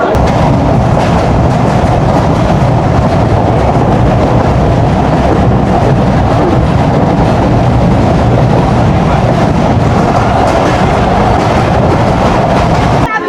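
A Betna Express train runs steadily on its route from Khulna to Benapole, heard from inside a packed carriage as a loud, continuous rumble with constant rattling and a low murmur of passengers throughout.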